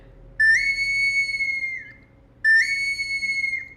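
Two long, piercing high-pitched whistle tones from a bone ocarina played on its highest notes, each held steadily for over a second, with a short pause between.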